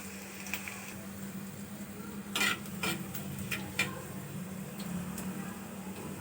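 Garlic frying in hot oil, a soft steady sizzle in the background punctuated by several sharp scraping and clinking taps of a utensil against the pan, with no voices.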